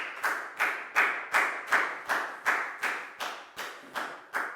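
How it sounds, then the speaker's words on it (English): Children in a classroom clap together in a steady rhythm, about a dozen evenly spaced, crisp unison claps, close and clear with no talking. "High five and a big round of applause for Dan, guys."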